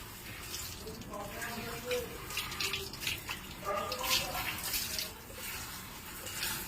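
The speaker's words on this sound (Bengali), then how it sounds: "যেখানে যেখানে শ্যাম্পু দিয়েছেন সব জায়গায় খুব ভালো করে জল দিয়ে ধুতে হবে।" Water splashes and pours in uneven bursts as shampoo is rinsed from a dog's coat during a bath, close by and continuous, with a voice briefly audible underneath.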